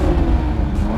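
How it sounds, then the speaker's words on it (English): A 2020 Toyota Supra engine in sport mode gives a brief, loud, close-up drone with a steady throaty exhaust note that rises slightly in pitch as it pulls, with no voices present. "the engine in sport mode for rapid response and a louder exhaust noise"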